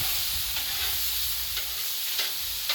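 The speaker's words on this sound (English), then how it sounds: "then on low for the butter in here in the corner. It's already starting to melt." Butter melting and sizzling in a corner of a Blackstone griddle on low heat, a soft continuous hiss with a few small pops, fairly quiet and with no talk.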